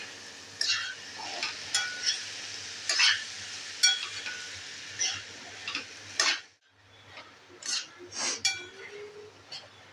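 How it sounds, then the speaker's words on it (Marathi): A pav bhaji masher works through a cooked pea and potato filling for matar tikki in a metal pan: intermittent scraping, squelching strokes and clinks against the pan, with a short pause partway through. "पावभाजीच्या मॅशरने ही भाजी थोडी मॅश करायची"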